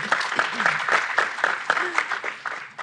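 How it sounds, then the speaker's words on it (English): An audience at a live panel event breaks into applause, dense rhythmic clapping that fills the short moment while a speaker's voice rises over it. "give you guys a round of applause"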